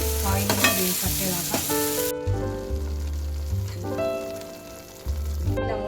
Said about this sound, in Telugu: ఈ పేస్ట్ చేసుకున్న మిశ్రమాన్ని ఈ ఆయిల్లో ఇలాగా వేయించుకోవాలి కొంచెం సేపు బాగా కలుపుకోవాలి